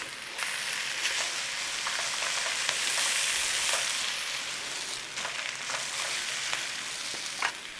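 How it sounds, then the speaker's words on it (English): Chow mein noodles stir-frying in a hot pan for chicken chow mein: a steady, close hiss of frying with scraping tosses and clatter throughout, no voices. "Now what we do is we whiz it about and we let them sit on the pan."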